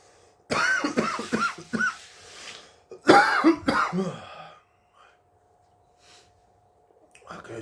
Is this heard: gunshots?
no